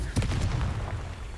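A Confringo blasting spell cast in the video game Hogwarts Legacy, a brief loud booming burst with a rumbling low-end tail, heard alone.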